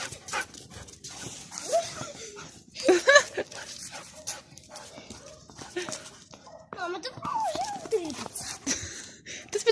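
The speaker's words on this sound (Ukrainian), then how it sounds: "Собака задоволений, спустили його на волю." A dog whimpers and yelps in short bursts outdoors, mixed with people talking nearby and some background noise.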